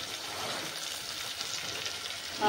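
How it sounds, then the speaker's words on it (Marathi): Peanuts sizzling in hot oil in a pan for masala khichdi, a steady soft crackle and hiss that holds fairly even throughout, moderately quiet with no voices. "आता मी टाकते शेंगदाणे"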